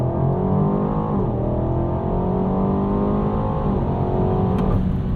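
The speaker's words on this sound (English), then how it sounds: "I think it's time to try out some launch control on this thing" A 2022 BMW Alpina B8 Gran Coupe launches hard under launch control, its engine roaring loudly and rising steadily in pitch through gear changes, heard close from inside the cabin.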